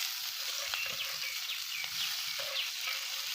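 Onion, crushed green chili and garlic fry in oil over a mustard-seed tempering, giving a soft, steady sizzle with faint light crackles throughout, no voices.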